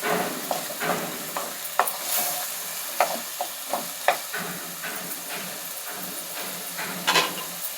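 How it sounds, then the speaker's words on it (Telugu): Potatoes frying with masala in a pan for aloo masala curry give a steady hiss and sizzle, broken by frequent light scraping and stirring taps. "కొంచెం మసాలా అంతా కూడా ఈ ఆలుగడ్డలకి పట్టేటట్టు కొంచెం వేయించుకోవాలండి"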